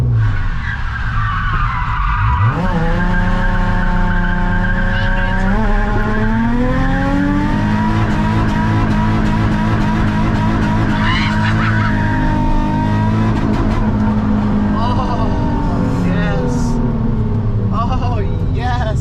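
A car skids hard through a tight sliding Batman turn, its tires squealing in long, loud, wavering tones near the microphone, with engine noise underneath and excited voices speaking over it.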